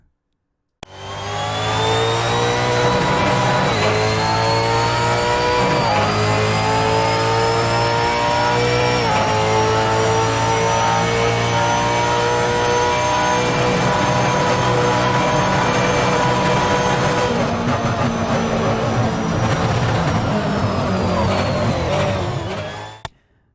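Loud, sustained revving from a V8 Supercars Ford race car in Assetto Corsa, the engine note rising and dipping through shifts over roughly twenty-two seconds, with a brief pause at the start and no voices.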